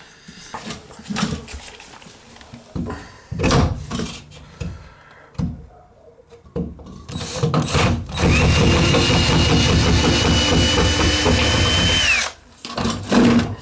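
A power drill backing rusty screws out of an old copper-fin baseboard heater in a bathroom: short bursts of whirring early on, then a loud, sustained high-pitched run, close up, ending with a few brief pulses.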